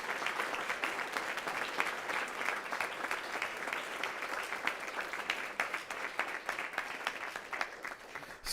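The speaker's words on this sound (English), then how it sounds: "How about we give them a round of applause?" An audience at a school board meeting gives a state third-place championship team a sustained round of applause: even, continuous clapping at moderate distance, with no talking over it.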